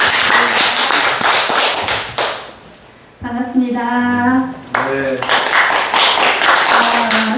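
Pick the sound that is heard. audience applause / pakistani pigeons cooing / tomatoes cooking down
audience applause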